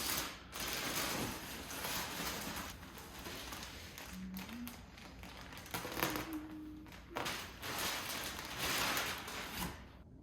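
A mailed package of quarter-inch, 100% recycled polyester quilt batting, five yards long, is opened with close, steady crinkling and rustling in irregular bursts for about ten seconds, with no talk.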